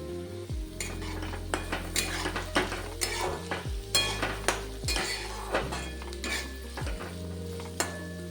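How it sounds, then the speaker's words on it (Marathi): Chopped green chillies and onion fry in a pan with a continuous soft sizzle, broken by repeated scraping and clinking stirs of a spoon against the metal. "आता यामध्ये आपल्याला कट केलेली मिरची टाकायची आणि ती छान अशी भाजून घ्यायची."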